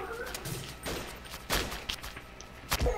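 Rapid gunfire in the blocky shooter game Blockade 3D rattles in several quick bursts of sharp shots, fairly close and loud, with a few heavier cracks spaced across the moment.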